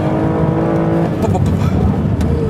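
Aston Martin DBS Volante engine pulling hard on a track lap, a loud, continuous roar under the throttle with some road and wind noise as someone talks over it.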